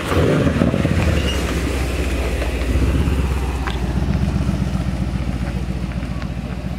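A Mercedes C63 AMG V8 with blowing turbos gives a continuous, moderately loud engine rumble with a rough, pulsing texture, heard from outside with no clear talk.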